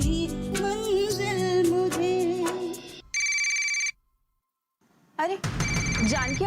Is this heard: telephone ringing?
yes